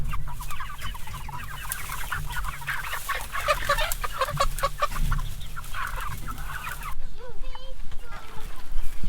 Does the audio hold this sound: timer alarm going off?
no